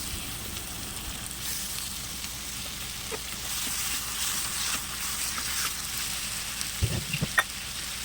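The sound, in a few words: chicken pieces sizzling in the pan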